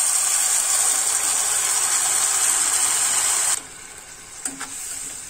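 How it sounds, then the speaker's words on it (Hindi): Onions and tomato puree fry in a pan, sending up a loud, bright sizzle that runs strongly before dropping sharply to a quieter simmer, with a couple of brief clinks from stirring near the end. "हमें थोड़ा सा फ्राई करना है अपने प्याज को।"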